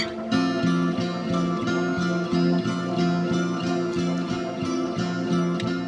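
Acoustic guitar chords strummed in a steady repeating pattern through a chorus vibrato pedal, the tone swirling and gently wobbling in pitch.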